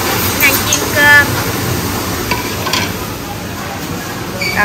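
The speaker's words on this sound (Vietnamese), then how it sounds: "Đang chiên cơm." Fried rice sizzles loudly in a hot wok at a busy restaurant cooking station, with steady frying hiss and scraping, clinking stirs from a utensil throughout.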